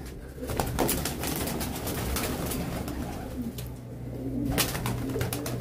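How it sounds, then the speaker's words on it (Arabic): Ground tumbler pigeons cooing in soft, repeated low murmurs amid a continuous background hum, with a few brief rustles. "حمام الشقلباز الارضي."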